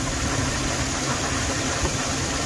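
An old GMC truck engine, started after sitting five years in the woods, idles steadily up close, a dense continuous rumble with a faint knocking texture and no change in pace.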